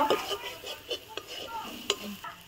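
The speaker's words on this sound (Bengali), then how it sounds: "অল্প পরিমাণে কাঁচা লঙ্কা দিলাম, আর একবার কষিয়ে নেবো" A spice paste with green chillies is stir-fried in a pan, quick scraping and clicking strokes over a soft, steady sizzle.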